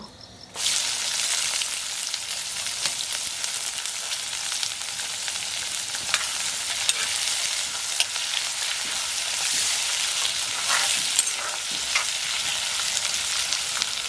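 Onions are added to a pan and fry for chicken fry, starting abruptly with a loud, steady sizzle that stays dense and even, with faint occasional crackles and stirring knocks.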